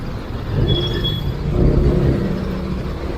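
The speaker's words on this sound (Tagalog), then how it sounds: "Sobrang traffic na." Heavy, congested road traffic on EDSA at Balintawak, Caloocan, heard as a dense, steady roar of engines and rolling vehicles with no break, and a short brake hiss near the start.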